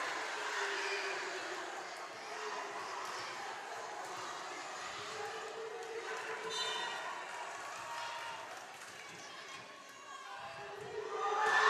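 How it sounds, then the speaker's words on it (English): Spectators in a high school gym during Arvin HS at Golden Valley HS game roar with steady cheering and chanting, a broad continuous wash of voices that swells toward the end. "Crowd is having fun,"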